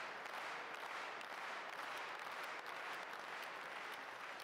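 Spectators in an arena applaud at the 2017 German Open table tennis men's singles round of sixteen. The sound is a steady wash of many hands clapping at once, heard faintly and from a distance throughout.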